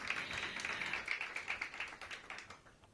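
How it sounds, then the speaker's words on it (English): Audience applause following an introduction of housing finance and deputy mayor's office officials at a mayoral announcement, a steady patter of many hands clapping throughout, moderately close and gradually thinning toward the end. "Give them a big round of applause."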